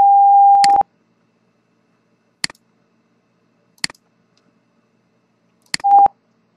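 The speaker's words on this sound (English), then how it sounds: "Every time the needle falls, we have a signal, sound signal." A Theta-Meter program on Windows gives short electronic tone signals: a steady beep at the start and end, with sparse sharp clicks between them, loud against silence.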